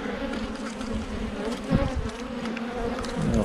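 Bees buzzing at a hive while a beekeeper works a small queen-rearing nuc box, a steady dense insect drone close by with individual bees flying past, and no talking.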